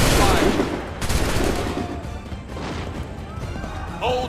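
Musket volleys crash out in a battle from the video game Assassin's Creed III, with a loud burst of overlapping gunshots at the start and more scattered cracks after. A voice shouts commands amid the firing.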